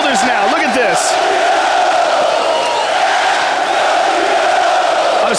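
A dense, roaring crowd at a UFC event, cheering and yelling continuously around a fighter, loud and steady throughout with voices shouting within it.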